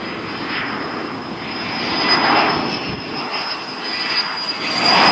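An F-16 fighter jet landing at Tulsa International Airport gives a loud, steady engine roar with a high whine, swelling slightly as it passes close by, with no voices over it.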